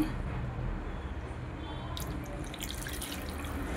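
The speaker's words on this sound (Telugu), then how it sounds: "కొంచెం వాటర్ పోసుకోవాలండి." Water splashes and trickles into a pan of fish curry, a steady liquid pour with faint dripping, close by and without any talking.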